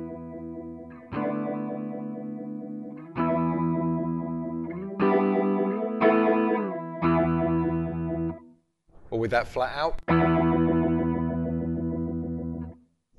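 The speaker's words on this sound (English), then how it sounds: "so it'll be a much quicker vibe sound" Chords played through the built-in vibe effect of a Marshall Theatre Haze 40 combo amp, set for a fast, intense pulsing modulation on sustained distorted chords, with a brief burst of talk breaking in near the end.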